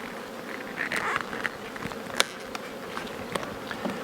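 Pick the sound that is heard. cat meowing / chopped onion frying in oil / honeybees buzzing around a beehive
honeybees buzzing around a beehive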